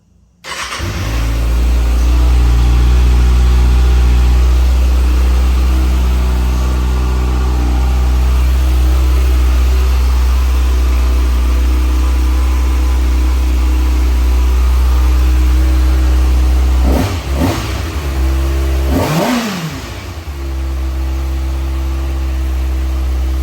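An auction motorcycle with a wrecked body runs loudly and steadily up close, its engine droning throughout, then revving sharply twice near the end before settling back to idle.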